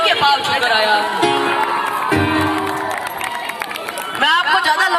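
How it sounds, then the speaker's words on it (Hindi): Audience at a Hindi comedy poetry recital cheering and clapping, a loud dense crowd roar with shouts and whoops sustained throughout, voices calling out over it. "आप लोगों को तालियां बजानी ही होगी"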